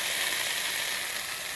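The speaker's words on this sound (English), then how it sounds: "we've got the initial sizzle going, we'll just back this off and just let them simmer there" Steady, bright sizzling of food frying in a pan, a continuous crackly hiss with no talking.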